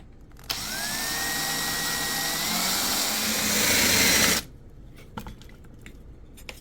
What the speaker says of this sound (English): got my hole drilled out